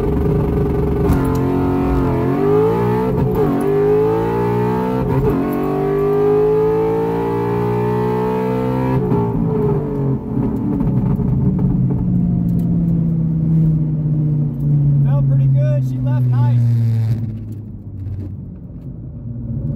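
An all-motor Ford Mustang launches and accelerates hard down a 1/8 mile drag strip, its engine climbing loudly through several rising gear pulls, then the roar fades as the car moves away into the distance.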